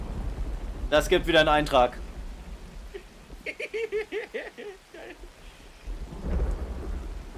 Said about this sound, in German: Es regnet und gewittert einfach.